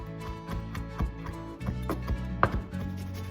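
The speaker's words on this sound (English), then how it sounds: "Strip off the thyme leaves and chop." A knife chopping stripped thyme leaves on a board for lasagna, a steady run of light, crisp taps with small pauses, close and fairly quiet, no talking.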